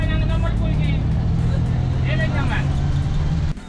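A very old minibus-style tuk-tuk in Java, Indonesia, its low engine droning steadily and close throughout while the vehicle drives along, with a brief change right at the end.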